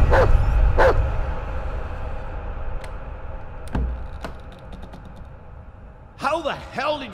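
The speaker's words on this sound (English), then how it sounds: "I swear that dog doesn't shut up!" A dog in the horror game Layers of Fear barks in a few sharp, close bursts at the start, then fainter yips and whimpering whines follow over a low ambient drone.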